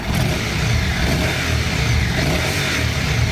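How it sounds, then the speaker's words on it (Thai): A 2015 Honda NC750X motorcycle engine with DCT gearbox revs steadily and loudly up close, its stock exhaust giving a continuous, throaty drone with no voices. "มาฟังในส่วนของเสียงท่อครับขออนุญาตเบิคเครื่องนิดนึงนะครับ"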